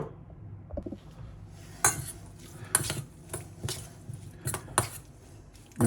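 Vegetables dressed with olive oil, salt and pepper are tossed in a bowl for a vegetarian dish, making irregular clinks and scrapes of a utensil against the dish, close by with no talking.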